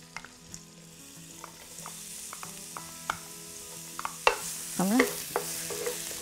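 Ginger and minced garlic sizzling in oil in a wok, a soft steady hiss under sharp spatula clicks and scrapes, with a brief spoken word partway through.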